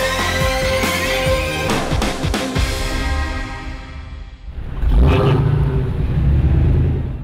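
Modern Hemi-powered Dodge Charger and Challenger muscle cars at a gathering in Southern California, loud engines roaring and revving close by, a rising rev and a sustained heavy rumble, no talk.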